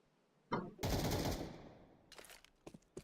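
AK rifle gunfire in Counter-Strike 2, a sudden loud burst of rapid automatic shots that trails off, followed by a few sharp scattered clicks and taps.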